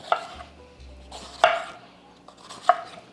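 Red pepper is chopped with a knife on a cutting board: three separate sharp, crisp cuts spaced about a second apart, fairly quiet and close, with a faint low rumble between them.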